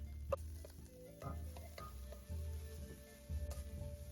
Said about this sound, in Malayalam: വലിയ ഉള്ളി ഇടാം അരിഞ്ഞു വരുന്നത് വലിയ രണ്ട് വലിയ ഉള്ളിയാണ് ചെറുതാക്കി അരിഞ്ഞതാണ്